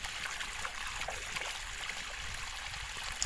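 Water rushing steadily out of a cut drip irrigation pipe, a constant hissing, gurgling flow heard close up with no talk.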